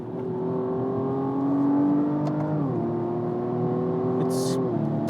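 A BMW M135i xDrive hatchback accelerates hard at speed, a steady loud engine drone rising in pitch with a shift partway through, heard from inside the cabin with no talking.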